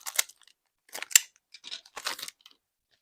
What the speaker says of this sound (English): I brought over scissors instead of just a knife